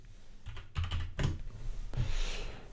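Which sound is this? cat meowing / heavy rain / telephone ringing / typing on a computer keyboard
typing on a computer keyboard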